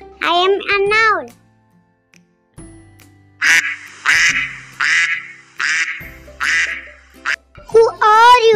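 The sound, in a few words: child imitating a duck quacking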